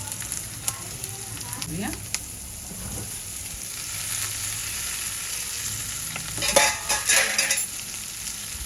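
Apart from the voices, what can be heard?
sautéing vegetables for navratan pulao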